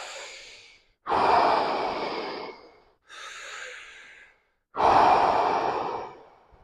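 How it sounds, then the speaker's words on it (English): Deep, heavy breaths during breathwork rounds in a trauma release yoga session, three long airy exhalations like loud sighs with a short pause between, close and alone with no talk. "Last 2 rounds of breath."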